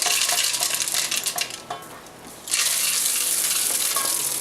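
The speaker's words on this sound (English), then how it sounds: "you add the chocolate and you stir that in" Chocolate being stirred into a thick, boiling mixture in a pot gives a steady, close bubbling sizzle with faint scraping, easing off briefly midway before returning at full strength.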